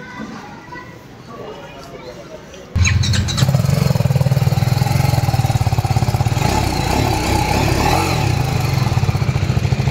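A BMW G 310 R motorcycle engine turns over and catches after a few seconds of quiet, then settles into a loud, steady, throbbing exhaust rumble up close.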